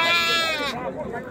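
A sheep gives one loud, wavering bleat close by at a busy livestock market, with crowd voices behind it.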